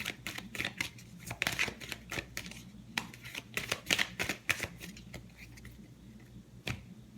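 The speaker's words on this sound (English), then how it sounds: "let me pull some tarot here for us" Tarot cards being shuffled by hand, with rapid, crisp riffling snaps in irregular bursts that are close and fairly quiet.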